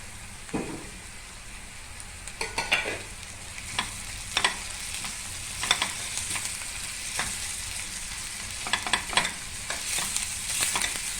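Grated garlic sautéing in a pan, a steady crackling sizzle punctuated by repeated sharp scraping stirs at irregular intervals, close and fairly loud with no talking.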